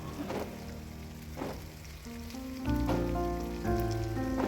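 Mutton sautéing in hot oil with cumin and turmeric for a home-style curry gives a steady, close crackling sizzle like light rain, with soft background music tones running beneath.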